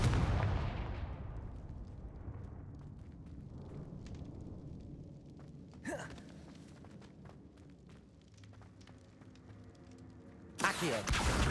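In Hogwarts Legacy, a Confringo explosive spell goes off with a loud blast that rumbles and fades over a couple of seconds. Faint game ambience follows, with a brief whoosh midway and another sharp burst near the end.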